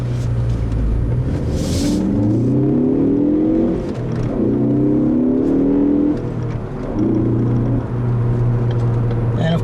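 A 2013 Ford Focus ST engine, its intake note piped into the cabin by Ford's Sound Symposer, rises and falls in several loud revving sweeps, with a steady drone between pulls as the car is driven.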